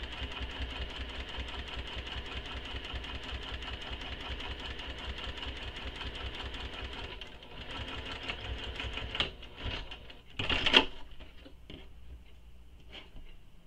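A sewing machine stitches a backpack with a steady, fast mechanical whir for most of the time, then slows into a few uneven bursts and clunks before going quiet, close and alone without talk.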